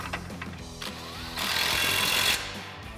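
An impact wrench tightens an 18mm nut on a Jeep Wrangler JK lift kit, with clanking tool handling followed by a loud, sustained buzzing rattle of roughly one second, close by.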